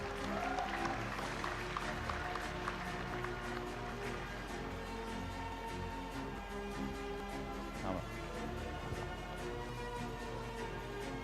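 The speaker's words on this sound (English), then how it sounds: "Big round of applause, audience." An audience at a medical college graduation ceremony applauds with steady, continuous clapping at a moderate distance, blended into the hall's murmur and background hum.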